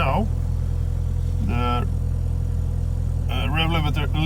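A Toyota Celica GT4 ST185 engine with ignition coil errors idles steadily, then rises in three quick revs, close and loud, and someone speaks briefly.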